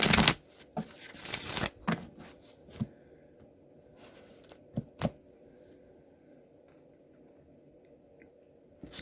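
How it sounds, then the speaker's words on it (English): A deck of cards is shuffled during a card reading, with a loud riffle burst in the first two seconds, then scattered soft clicks and slaps as the deck is cut and a card is drawn, fairly close. "I'm going to shuffle one more time,"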